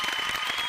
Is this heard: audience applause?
yes